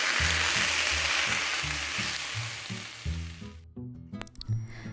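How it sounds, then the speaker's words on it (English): Onions sautéing in butter or olive oil in a pan, a loud steady sizzle and crackle with stirring, the frying dropping away near the end as scraping and clinks take over. "You'll start by sauteing some onions in some butter or olive oil"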